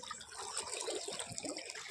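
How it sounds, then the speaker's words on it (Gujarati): Tap water running steadily into a container, a continuous close splashing gush with no voices. "તો ફાઇનલી અહીંયા પાણી આવી ગયું છે અને હવે હું ભરી લઉં"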